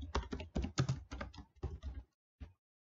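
Someone types on a laptop keyboard close by, with quick bursts of key clicks, short pauses between groups and one last isolated tap, and no talk.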